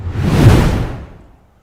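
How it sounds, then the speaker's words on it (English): A swelling whoosh sound effect plays alone in a live futures-trading stream, rising to a loud rushing peak mid-way and then trailing off into silence over about a second and a half. "And now we're whooshing."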